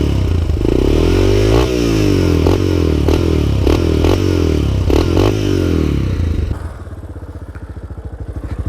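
A Yamaha 350 Raptor quad's engine revs loudly and close by while riding, with rising and falling harmonic sweeps as it accelerates, then drops to a lower, rougher idle-like rumble near the end.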